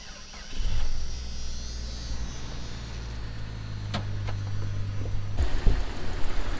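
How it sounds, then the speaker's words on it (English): A Jeep Cherokee XJ with a 4-liter inline-6 gasoline engine cranks and catches, then settles into a steady close idle with a few clicks and a brief higher whine near the end. "I'm going to show you guys the engine. I'm going to start it up and all that."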